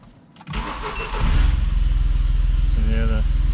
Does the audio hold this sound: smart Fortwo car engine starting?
yes